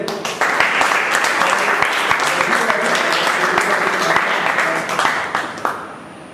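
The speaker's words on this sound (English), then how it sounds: "a very big round of applause for Vijay" A roomful of people at a Toastmasters meeting gives a hearty round of applause, loud and steady, fading out at the end.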